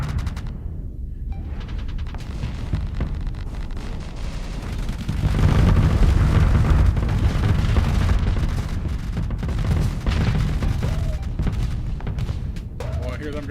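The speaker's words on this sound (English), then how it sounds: "Hear them Gauss cannons." Gauss cannons firing in a Starsector space battle, a dense run of heavy booming shots and rumbling impacts that grows louder partway through, with bursts overlapping under occasional talk.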